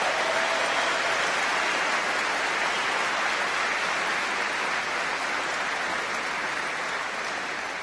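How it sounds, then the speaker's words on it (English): A large crowd applauds at a university undergraduate commencement, a steady, even wash of clapping that holds at a constant level throughout, with no voices breaking through. "Let's have a round of applause for them."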